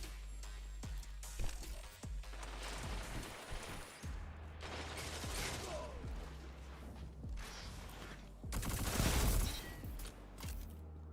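Heavy rapid gunfire from a video game weapon fills the whole stretch in dense bursts, with a louder cluster near the end over a steady low rumble.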